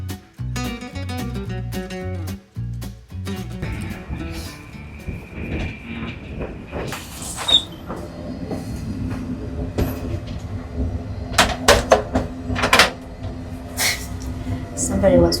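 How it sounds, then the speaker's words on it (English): Rhythmic rumble and clatter of a new high-speed train running along the tracks in Sweden, with a steady low drone and occasional sharp squeals and clicks, heard from inside. "This is obviously a new train, high-speed train."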